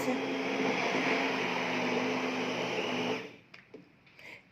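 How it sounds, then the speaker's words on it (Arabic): A hand blender whirs loudly and steadily for about three seconds blending cooked tomatoes, then switches off, leaving small clinks and rustles. "وبضربها بالهاند بلندر اهو مش في الخلاط زي ما قلت لكم"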